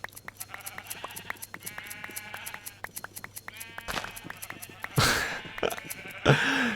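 Sheep in the Minecraft video game bleat repeatedly amid rapid clicking and game effects, followed near the end by a couple of loud bursts of louder game noise.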